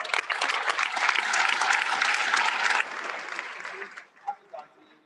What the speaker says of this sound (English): Another round of applause for the panel.